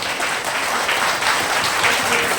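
An audience at a school annual day claps for the children, dense continuous applause from many hands, loud and sustained throughout.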